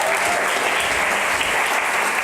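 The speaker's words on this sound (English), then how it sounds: "That's the part where you applaud." Audience at a live startup pitch event clapping in a dense, even wash of applause that holds steady and fairly loud throughout the short stretch, with no voices over it.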